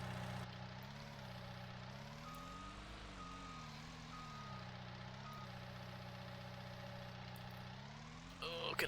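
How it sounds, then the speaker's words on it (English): Quiet tractor engine droning steadily in the Farming Simulator game, a low continuous hum with faint beeping tones, some talk briefly at the end. "It's a very quiet tractor."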